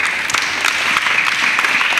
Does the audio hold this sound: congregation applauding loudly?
yes